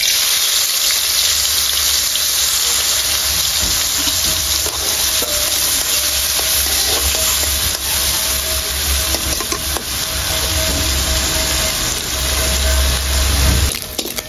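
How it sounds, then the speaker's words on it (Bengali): Shrimp fry in hot oil in a karahi wok, giving a loud, continuous sizzle with stirring that carries steadily through the whole stretch. "তেল গরম হয়ে গেছে, চিংড়ি দিয়ে দেব।"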